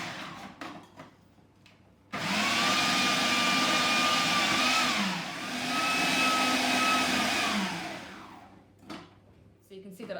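A food processor slices apples, with a loud steady motor whir running in two long bursts separated by a short dip, framed by clicks and knocks of the pusher and lid before and after.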